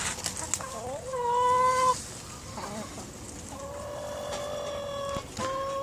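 Backyard poultry cluck in drawn-out, wavering calls, several bouts close by in a fruit garden with light background ambience.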